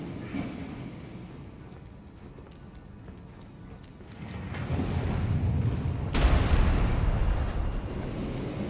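A heavy boom from Rabbath's Cannon firing in Elden Ring bursts out sharply over a rumbling game backdrop, followed by a sustained roaring wash of noise.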